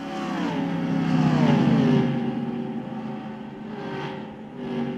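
Race car engines whine in the NASCAR Racing 2003 video game, a loud sustained buzzing roar with shifting pitch as cars pass, fading slightly then swelling again, with no voices.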